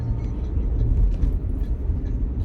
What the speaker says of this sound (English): There's no lights on, but the car sounds weird.